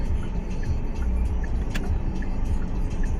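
A car driven by a learner cruises along an expressway at about 83 km/h, with a constant road and engine rumble and tyre noise heard from inside the cabin, steady and unbroken, with no talking.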